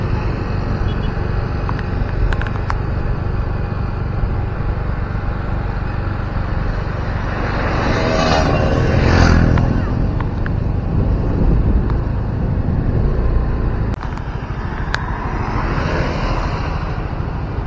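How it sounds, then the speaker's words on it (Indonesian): Continuous loud traffic roar beside the road exiting the Padang–Sicincin toll road toward Bukittinggi, with a vehicle swelling past midway and a few sharp clicks, and no one talking. "kendaraan yang baru keluar dari jalan tol dari arah Padang menuju ke Bukit Tinggi teman-teman ya"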